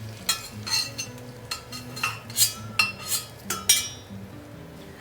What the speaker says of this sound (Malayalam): ഇത് നമുക്ക് നല്ലോണം മിക്സ് ചെയ്തെടുക്കാം കേട്ടോ.